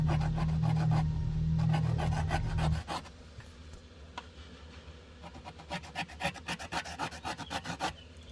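Small pieces of metal are cut and filed by hand to shape radio removal keys for a Jensen MSR3007, starting with a loud, steady rasp that gives way to quieter, rhythmic scraping strokes close up.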